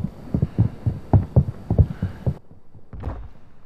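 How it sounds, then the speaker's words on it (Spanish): Enemy footsteps in the video game Warzone 2, heard as a run of soft, rhythmic low thuds at a steady pace that stop partway through, leaving only quieter scattered sounds. "pero escucho pasos."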